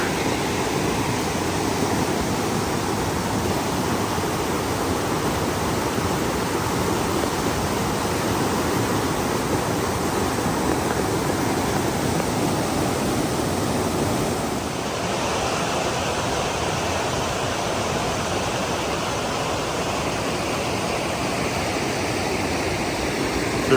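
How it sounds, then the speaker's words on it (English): Raging high water of Big Creek just upstream from Mouse Creek Falls in North Carolina, a continuous loud roaring rush of flooded stream that stays steady throughout with no voices. "Raging water."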